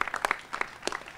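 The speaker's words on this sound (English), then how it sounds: "Give the VEDP a great round of applause for the great work that they did." A brief smattering of claps from an audience at a Richmond announcement event for Stone Brewing Co., fairly faint and sparse, with a few distinct hand claps over a second.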